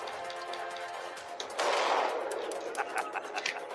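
GameCube shooter gunfire, a burst of muffled game gunshots followed by a quick run of sharper shots, moderately loud with no voices.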